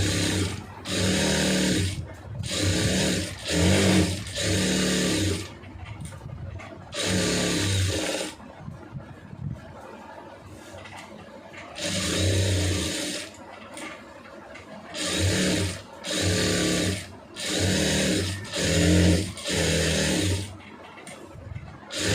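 A sewing machine stitches a lined blouse with small stitches, running in loud, steady mechanical bursts of a second or two, separated by short pauses and one longer quiet gap midway.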